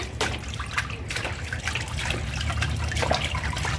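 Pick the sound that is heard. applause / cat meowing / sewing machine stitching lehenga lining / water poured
water poured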